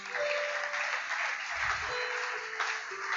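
An audience at a couples' conference applauds after a Bible reading. The clapping is sustained and even, with a full crowd texture throughout.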